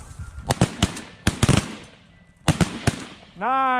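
Shotgun blasts ring out on a duck hunt, a rapid series of about seven sharp, loud reports in irregular bursts, followed by a duck call's honking quack at the end.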